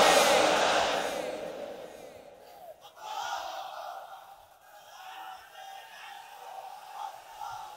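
A large crowd at a Ramadan religious sermon chants takbir in a loud, swelling roar. The shout fades into fainter, scattered crowd voices.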